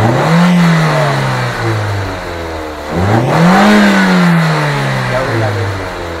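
A car engine, being checked for overheating and a rising radiator, revs twice in long swells that climb and fall back, loud and close, with a voice talking over it.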